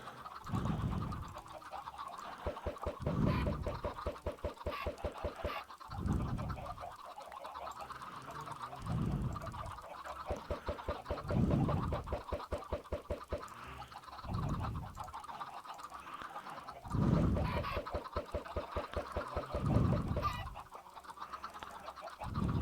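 Minecraft chickens clucking in a vanilla hardcore game, repeated short buzzy clucks in bursts every couple of seconds, moderately close, with a faint steady background tone and no talking.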